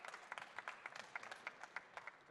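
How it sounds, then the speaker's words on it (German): Applause from a stage-event audience greeting a speaker, a faint, fairly sparse round of clapping with distinct individual claps, heard alone. "einen kräftigen Applaus"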